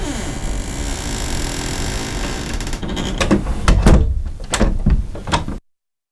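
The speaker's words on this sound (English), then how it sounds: "say we have our door sound here, put it by the ship" A door sound effect plays back in the Unity game engine, a sliding rumble followed by several heavy thuds and a slam, loud and close with no voices.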